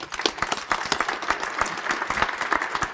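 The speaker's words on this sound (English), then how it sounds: "let's clap for Cathy" Audience applause at a Centennial city event, a crowd clapping steadily and densely for a council member being introduced, sustained at even loudness for several seconds with no talking over it.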